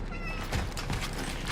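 A cat meows in a game's ambient scene, short plaintive cries set against a thick, noisy background of ambience.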